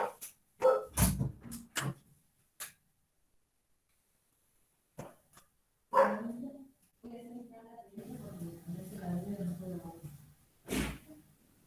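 Indoor dog giving several sharp barks in a burst, then a pause and more barks, mixed with a person speaking nearby.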